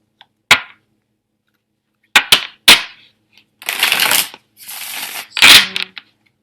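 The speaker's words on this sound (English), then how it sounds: "I'm going to lay out your cards." Tarot cards being shuffled and laid out in close, crisp bursts: a few sharp riffles and snaps, then longer papery shuffling passages, with no talking.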